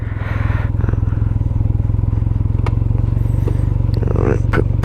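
A Can-Am Ryker three-wheeled motorcycle idles loudly and steadily up close with a rough, pulsing engine note as it is shifted into reverse, with faint clicks and clatter on top.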